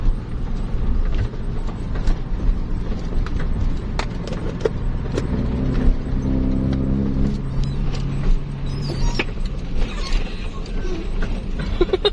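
A tour bus engine roars loudly as the accelerator is pressed, a close, steady, heavy rumble with mechanical rattles that swells slightly and holds throughout.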